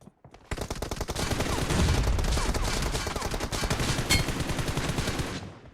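Sustained rapid gunfire in PUBG Mobile, dense bursts of automatic shots firing continuously for several seconds, loud and close, with a few sharper cracks near the end.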